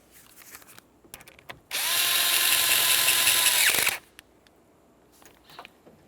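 A power drill snugs the steering column mounting bolts on a 1994-2002 Dodge Ram 2500, one steady loud whirring burst lasting about two seconds, with light clicks and handling noise before and after.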